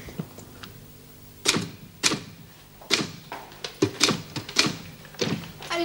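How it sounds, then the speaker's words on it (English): Typewriter keys struck in irregular clusters of sharp clacks, close and fairly loud, with short pauses between bursts in an indoor room. "I didn't know you typed."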